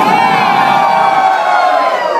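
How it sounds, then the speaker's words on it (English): A bar crowd in Chicago screams and cheers at a live performance, a loud sustained roar of many voices with high whoops ringing on top. "And in this bar in Chicago, these people scream."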